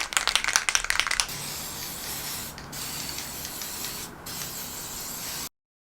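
Copper gasket sealant sprayed from an aerosol can onto exhaust gaskets for a Nissan 350Z cat-back exhaust: a few quick can shakes and rattles, then a long steady close hiss with brief pauses.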